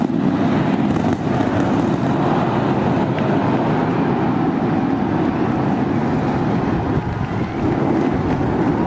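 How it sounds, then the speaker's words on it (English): SpaceX's 400-foot Starship rocket lifting off on a test flight, a loud, continuous broadband roar that stays steady and dense throughout, with no one talking. "We got liftoff."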